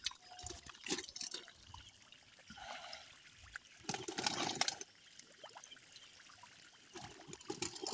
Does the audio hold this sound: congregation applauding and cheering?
no